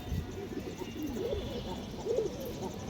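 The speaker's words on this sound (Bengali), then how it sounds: "সুন্দর একটা মাদি কবুতর, কাজ করার সুন্দর লাইনের কবুতর।" A female pigeon of good working stock coos softly in two short throaty bursts amid low background murmur and handling noise.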